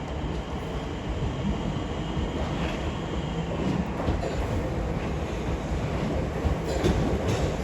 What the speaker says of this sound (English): There's a pair of Southeastern 465 comes in bound for London Charing Cross